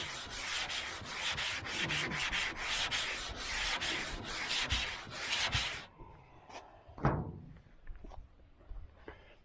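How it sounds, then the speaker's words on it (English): Steady, rhythmic abrasive rubbing of sanding body filler on a 1978 Chevrolet Nova's car body for several seconds, then it stops, leaving a few quieter scrapes and taps. "Keep sanding until they're gone."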